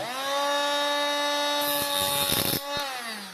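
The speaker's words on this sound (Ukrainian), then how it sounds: "Болгарка в мене." A power tool whines at a steady high pitch, with a harsh grinding hiss in the middle as an angle grinder bites into metal of a Soviet-era souvenir loudspeaker, close by.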